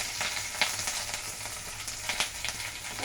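Sliced onion frying in hot oil in a pan for paneer tikka masala: a continuous close hiss of sizzling with a few soft stirring taps, no talking.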